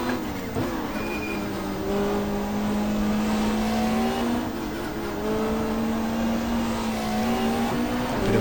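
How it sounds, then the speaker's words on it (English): Super touring race cars at the 1995 Gold Coast Indy round, engines howling and rising through the gears as they race past, with a steady loud roar and shifting pitch throughout. "Good to see the Volvo up there as well. Can we get a run on O'Brien?"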